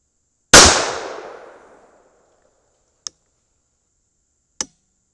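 A 9mm pistol fires one loud, sharp report of Inceptor ARX frangible rounds over HP-38 powder loads, ringing out and decaying for over a second, followed by two faint metallic clicks.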